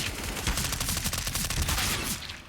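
Rapid gunfire sprays in a Counter-Strike match, with dense, continuous automatic rifle shots rattling steadily for a couple of seconds, loud and close with no voices over them.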